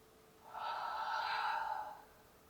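A single soft exhale during a chair yoga exercise swells for about a second and a half and then fades, breathy and close, with no talk.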